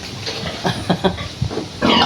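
A pig grunts in a quick series of short, nearby snorts, with a louder snuffling burst at the end.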